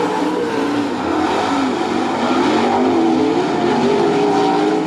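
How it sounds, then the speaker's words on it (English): A World of Outlaws sprint car engine roars loud and steady at a dirt track race, with a continuous droning rumble and wavering pitch and no talking over it. "Dale Blaney off the pace headed back to the pit area in car number 1B"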